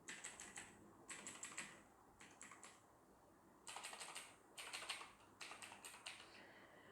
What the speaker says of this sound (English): Not sure if you can actually catch the sound of the keyboard typing space and multiple keys